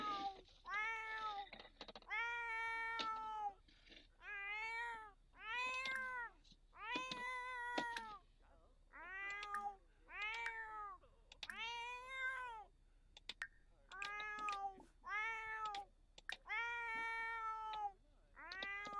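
Repeated meows from a cat in The Sims 4 video game, a steady run of about a dozen clear, close calls spaced evenly with short gaps, each rising and falling in pitch.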